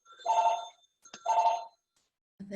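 A telephone bell rings in two long buzzing bursts separated by a short pause, moderately loud in a quiet church meeting room, with a brief voice starting at the very end.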